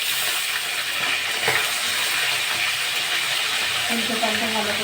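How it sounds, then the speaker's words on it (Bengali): Flipped tilapia fries in mustard oil with a strong, even sizzle throughout, joined late by a faint low hum or voice-like murmur under the hiss. "উল্টে পাল্টে ভালো করে ভাজা করে নেব"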